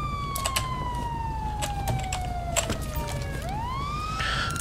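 A police car siren in GTA V wails in a long descending sweep, then rises again, heard fairly loud alongside scattered clicks from a computer keyboard.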